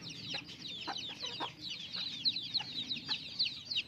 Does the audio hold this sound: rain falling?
no